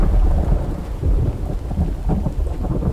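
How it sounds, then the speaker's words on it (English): Rainstorm in the video game The Infected: loud, rolling thunder rumbles over a dense, constant downpour, with no talking. "This all needs to be rewatered while it's raining."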